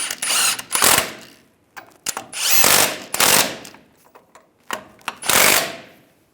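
A ratchet tightens nuts on a 2007-2013 Chevrolet Silverado passenger-side differential bracket, heard close up as several bursts of rapid clicking separated by short pauses.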